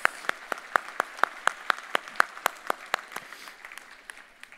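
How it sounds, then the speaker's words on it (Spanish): Audience applause for a panel of experts at a conference summit, heard as a steady run of crisp, evenly spaced claps that gradually thin out and soften toward the end. "les pido que le demos un gran aplauso a este panel"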